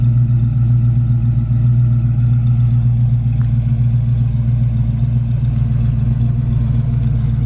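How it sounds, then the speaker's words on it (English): A 1966 Ford Mustang coupe with a 3-speed and dual exhaust idles steadily, a loud, close, even low rumble with a light mechanical clatter and no talking. "It's got a nice sound and dual exhaust, nothing radical, just a great sound to it."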